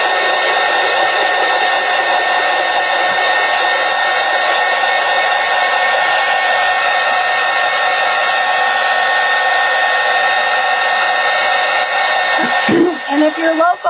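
A hair dryer blows steadily on a piece of a heart garland craft, a loud, close, continuous whir running nearly fourteen seconds before it shifts and cuts out at the end.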